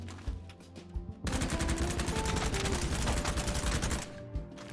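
A Groza rifle in the video game BattleBit fires one sustained, loud, rapid automatic burst for about three seconds, bracketed by quieter scattered shots at the start and end.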